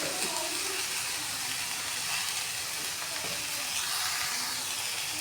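Vegetables for a mixed-vegetable pulao sizzle and fry in a pan while being stirred, a steady close hiss with faint scraping and no voices over it.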